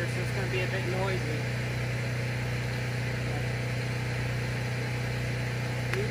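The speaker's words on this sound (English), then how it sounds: "the only source of power I have is that generator, so it's going to be a bit noisy" A generator runs nearby as the only power source in a workshop, giving a constant loud droning hum with no change in level.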